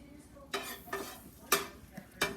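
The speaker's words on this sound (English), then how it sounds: "just keep on pushing this butter is taking a while to melt away, but you keep pushing it around until it is done melting" Butter melting in a cast iron pan, pushed around with a utensil that gives four or five sharp scraping strokes against the metal over a quiet faint sizzle.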